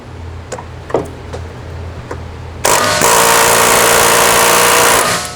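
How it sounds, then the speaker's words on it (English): An air chisel works in the engine bay of a Honda Prelude with an H23 engine. A few metal knocks come first, then a loud, steady, buzzing rattle that runs for several seconds before stopping. "When in doubt, air chisel it out."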